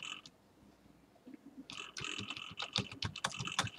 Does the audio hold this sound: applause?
no